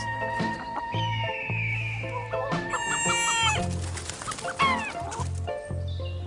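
Chickens cluck and a rooster crows in a busy flock, with overlapping calls and squawks filling the whole stretch.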